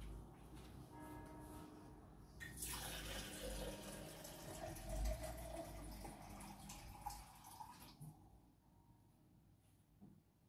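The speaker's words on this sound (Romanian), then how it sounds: "și mai pun 400 de grame de apă" Water pours steadily into a pot holding sugar to make syrup for homemade amandine cakes, a loud close rushing fill that starts after a few seconds of low hum and lasts several seconds before cutting off.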